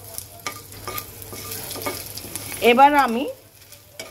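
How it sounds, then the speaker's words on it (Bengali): Panch phoron and ginger frying in a pan give a steady low sizzle with light stirring scrapes. A voice briefly speaks over it near the end. "আদা বলো 5 ফোড়ন বলো সব কিছু সুন্দর করে ভেজে নিয়েছি"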